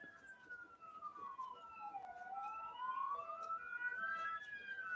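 Emergency vehicle siren, police car or ambulance, wailing as it passes, its pitch sweeping down then rising again, steady and fairly loud over a background hum.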